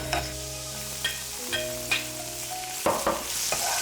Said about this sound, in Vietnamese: Phi lên cho thơm.